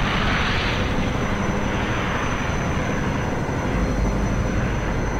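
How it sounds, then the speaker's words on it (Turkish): A big airplane approaches with a steady, loud, broadband engine roar that fills the whole stretch without pause, heard in an animated scene. "Koca uçak geliyor."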